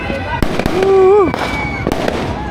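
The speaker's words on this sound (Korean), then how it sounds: "지금 여기저기서 폭죽 터뜨리는 겁니다" Fireworks burst around midnight in the Philippines, several sharp cracks and pops scattered near and far, mixed with a voice in the middle of the clip.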